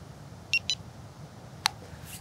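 Nash Siren R3+ bite alarm receiver gives a few short, faint electronic beeps, two close together and then a third after a pause, over quiet background hiss.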